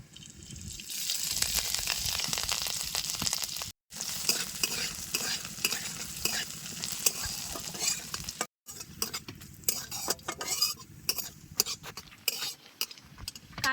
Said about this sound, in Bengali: কাঁচা লঙ্কা আর আদা ভালো মতোই ভাজা হয়ে গেছে